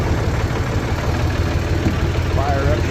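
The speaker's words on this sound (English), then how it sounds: "start the tractor." Farm tractor engine running at idle during corn harvest hauling, a steady low chugging rumble close by, with a person talking over it.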